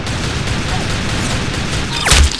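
A single sharp gunshot lands a headshot in a first-person video game, bursting out loud near the end over a steady, noisy game background.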